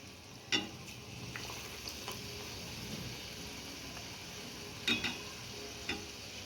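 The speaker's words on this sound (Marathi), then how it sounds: "कढईमध्ये आपण एक एक करून सगळे भजे घालून घेऊया" Quiet frying sizzle of potato fritters in a kadhai, with a few sharp clicks and taps of a utensil now and then.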